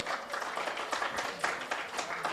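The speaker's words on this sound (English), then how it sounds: "Give a round of applause" An audience at a class session claps steadily for a few seconds. The applause is dense and fairly soft, a short burst of many hands with no voices over it.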